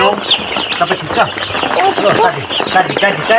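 Chicks and chickens on a farm cheep and cluck densely and continuously, many high peeping calls overlapping close by, with a person talking over them.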